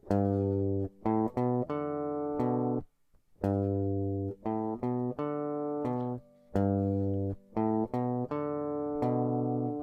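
Slow guitar riff of single sustained notes, each ringing for a moment before the next, with short gaps between phrases and no voices.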